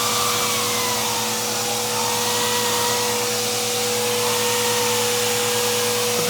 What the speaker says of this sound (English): as soon as you connect it in, it starts spinning because there's a little turbine inside there that's driven off suction